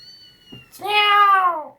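A single close, clear cat meow rises and falls over about a second, preceded by a soft thump and a faint high tone.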